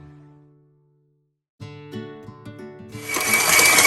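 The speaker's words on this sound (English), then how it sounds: "You can hear how it's beaten off the corners of the mixer" Silence, then a stand mixer starts up at speed 6 and runs fast, a rhythmic mechanical thumping of pullman loaf bread dough slapping the bowl, building into a loud whirring churn.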